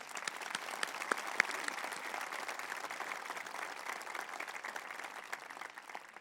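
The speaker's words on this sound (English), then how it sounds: "Let's give them another round of applause." Faint, steady applause from a graduation audience at a high school ceremony, many hands clapping at a distance with a few sharper claps standing out.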